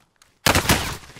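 A gunshot in a shooter video game: silence, then an abrupt loud burst of gunfire that rings on for most of a second.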